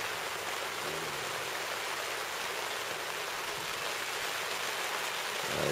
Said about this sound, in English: Right now we're under the rain.